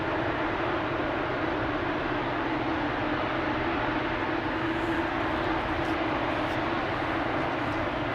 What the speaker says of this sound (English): KLM flight 635, that's a 7879 Dreamliner with the name Bougainville